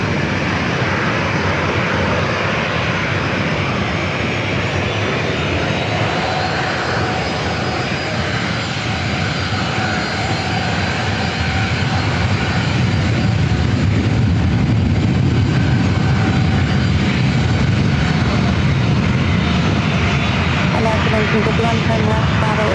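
Airliner on runway 27 at San Diego airport, a loud steady roar of jet engines that builds slowly over the whole stretch, with air traffic control radio chatter heard alongside.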